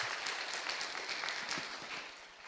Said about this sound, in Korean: 하나님께는 영광의 박수를 한번 올려드릴까요?